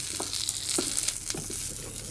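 Food stir-fried in a pan, a constant close sizzle with a few soft scrapes and stirring taps, and no voices over it.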